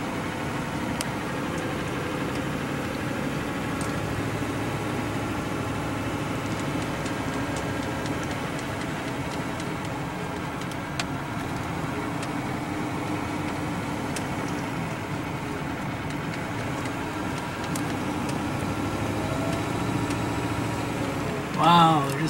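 A car climbs a paved road into the hills of Organ Pipe Cactus National Monument on the Ajo Mountain Drive, its engine and tire noise a steady, moderately loud hum running through the whole stretch.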